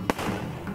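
A single sharp firework burst booms at a temple procession in Achara, a short loud crack followed by a fading rumble.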